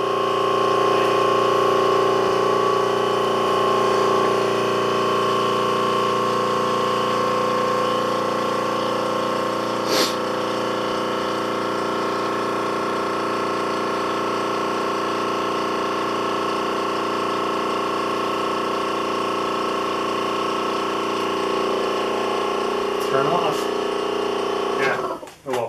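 A homemade vacuum press pump runs steadily and loud with a constant droning hum, a sharp click near the middle and a brief disturbance just before it stops abruptly at the end; a leaky system with a faulty pressure switch.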